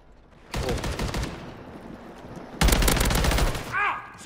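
Rapid automatic gunfire in Warzone, two loud sustained bursts separated by a brief lull, close and punchy, with a short electronic chirp near the end.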